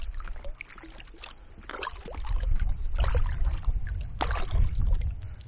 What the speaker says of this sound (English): As I said, we're paddling